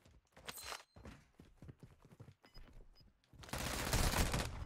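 Shotgun blasts and scattered gunfire from a zombie in the Call of Duty Warzone Halloween event, a run of sharp repeated shots building into a dense loud burst at the end.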